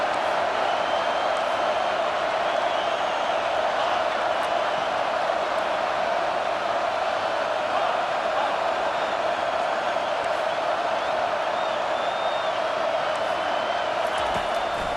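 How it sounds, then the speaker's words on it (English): Steady stadium crowd roar from a College Football 25 game fills the whole stretch, a loud, dense wall of cheering and voices on third down with no clear breaks. "this crowd will blow out a vocal cord to help this defense"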